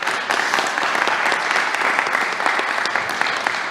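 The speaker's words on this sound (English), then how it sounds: "Let's give them a round of applause." Sustained applause from a crowd at a New York governor's news conference, dense and even clapping that stays loud throughout without talk over it.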